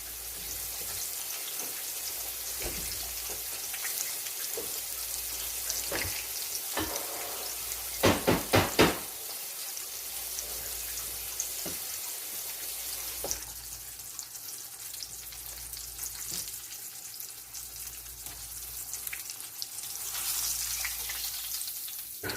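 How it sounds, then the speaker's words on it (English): Steady sizzling of chicken frying in hot oil, with occasional clinks and a short burst of rattling knocks partway through. "Frying these bad boys is easy"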